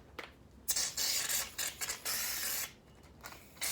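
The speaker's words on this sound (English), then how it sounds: "I'm going to spread shaving cream on my pan." Shaving cream sprayed from an aerosol can onto a tray in a garage, several hissing bursts of varying length separated by short pauses, close and fairly quiet.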